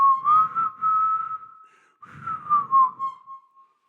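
Two melodic whistled phrases from western film music, clear and solo, each rising then sliding into a long held note before fading.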